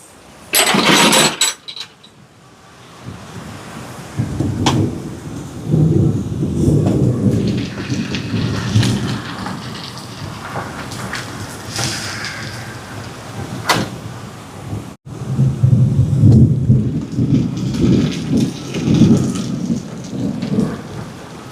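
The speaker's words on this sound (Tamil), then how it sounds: "இடியும் முழங்குது நண்பர்களே, மின்னலும் அடிக்குது" Heavy rain pours steadily throughout a rainy-day outdoor cooking session, with deep thunder rumbling and swelling beneath it, including a loud crack near the start; no voices.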